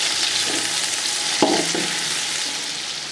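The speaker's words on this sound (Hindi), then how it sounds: "प्याज को अच्छे तरीके से फ्राई करेंगे।" Onions frying in a pan, giving a steady close sizzle with a few brief clanks from stirring and no voices.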